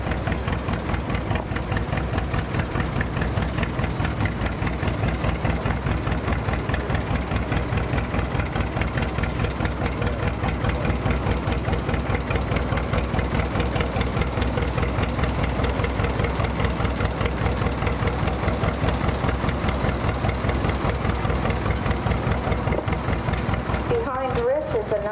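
A 1957 John Deere Model 720 tractor runs steadily in an antique tractor show parade, its slow, even engine putter loud and close for the whole stretch, with a brief voice near the end.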